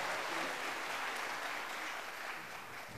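Steady, dense audience applause at a Lake View mariachi performance, sustained and fairly loud through the whole stretch with a slight easing toward the end.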